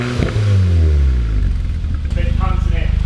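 A stage 1 Volkswagen Scirocco R rev, engine warm, exhaust blipping loud and close: a swelling roar that drops back, then a rapid rhythmic burble as it settles toward idle, with people talking briefly.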